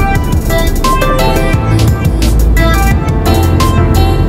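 A Toyota Prius drives and slows down, its steady low road and engine rumble holding throughout, with a continuous drone and faint tonal whine close by and no voices.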